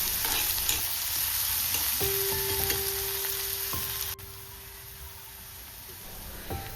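Salt and a little turmeric sautéing in a pan for a Kerala-style sweet potato curry made without coconut, giving a steady close sizzle with a spoon stirring and scraping and a faint hum, no talking.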